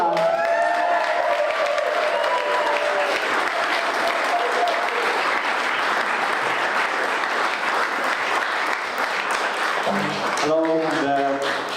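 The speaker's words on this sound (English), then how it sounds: "Give them a huge bit of a round of applause." A folk concert audience claps warmly and continuously for the performers, a full sustained wash of applause with a few voices over the start and a performer beginning to speak as it fades.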